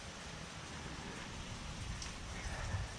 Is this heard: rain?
yes